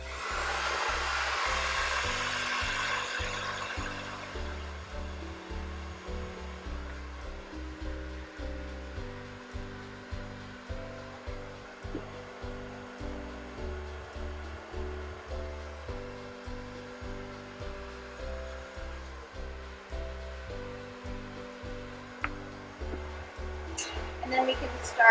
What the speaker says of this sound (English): take your blow dryer, dry the roots.